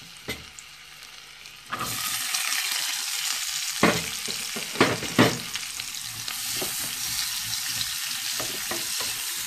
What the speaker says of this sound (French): Donc je vais mettre à feu jusqu'à ce que ça fond mon beurre. Voilà. Je vais rajouter mes oignons.